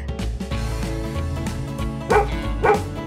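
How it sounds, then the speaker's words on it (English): Two short, loud cartoon-style dog barks ring out over a continuous, busy children's song with steady beat and melody, part of an animal-sounds game for kids. "You found the dog!"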